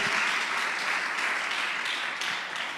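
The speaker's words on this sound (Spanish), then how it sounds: "Ese aplauso es para ti." Church congregation applauding during a Spanish-language sermon, a steady crowd clapping heard somewhat distant and moderately loud, tapering slightly at the end.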